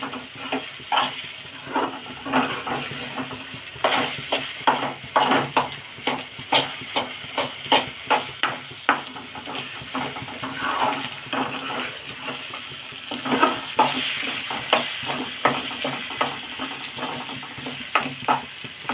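Egg tempering fries in a pan while being stirred, with steady sizzling and hissing under repeated scraping strokes of a spoon against the pan in an uneven rhythm, close and without talk.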